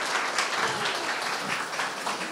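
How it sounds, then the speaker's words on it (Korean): An audience applauds Dr. Jeong Jae-seung at a live book talk, dense continuous clapping from many hands filling the room at an even level, with no voices over it. "좋은 이야기 들려주신 우리 박사님께 다시 한번 박수 부탁드리겠습니다."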